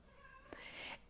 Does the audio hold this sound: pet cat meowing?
yes